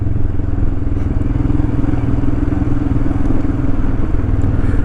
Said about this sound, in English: A lot of bikes here already.